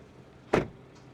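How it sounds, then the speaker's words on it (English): A single solid thud as the door of a 2024 Kia Seltos compact crossover is shut, close by and heard alone against a quiet background. "let's listen to the sound of the closing door"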